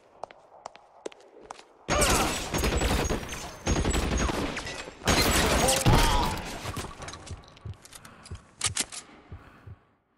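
Gunfire in the video game L.A. Noire: scattered single shots, then several loud sustained volleys of rapid firing, close and harsh, with quieter clicks and thuds between bursts.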